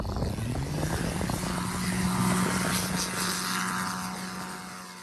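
A Zenith 750 light aircraft with a 150 horsepower engine drones steadily, its propeller hum loud and close and holding for several seconds before easing off slightly at the end.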